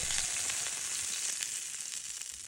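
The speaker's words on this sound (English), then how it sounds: "Now with all the leftover sauce, we can go ahead and baste our vegetables and the steak." Steak and vegetables sizzling steadily while basted with leftover sauce at a camping site, a bright continuous hiss heard close up with no voices.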